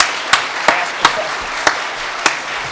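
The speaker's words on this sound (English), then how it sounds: "please join me for a brief round of applause" Brief applause at a panel event: a few loud, sharp claps stand out at uneven intervals of roughly half a second over a softer, continuous bed of scattered clapping from the room.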